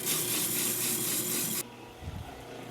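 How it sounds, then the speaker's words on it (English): Food processor grinding mustard seeds for a honey beer mustard, a loud steady gritty whirring that cuts off abruptly, followed by softer rattling of seeds. "We just want to grind up the mustard seeds."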